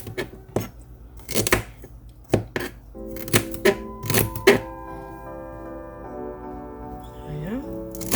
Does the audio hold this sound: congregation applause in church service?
no